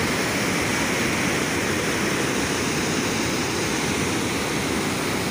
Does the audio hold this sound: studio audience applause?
no